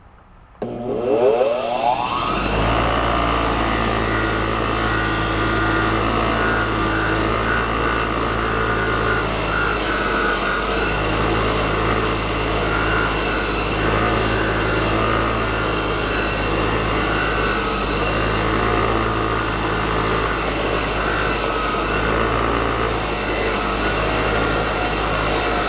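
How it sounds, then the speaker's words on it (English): A big bench-mounted wire wheel spinning up to a loud, steady whirring drone while cleaning parts from a barn-find 1971 Honda CB350 motorcycle, the tone dipping slightly at intervals as parts are pressed against it. "Noise alert. So let's go try the big wire wheel."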